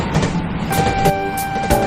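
Train arriving at Jafarshahi railway station, a loud rolling rumble with steady, drawn-out metallic squealing tones layered over it, close by and continuous for a brief moment.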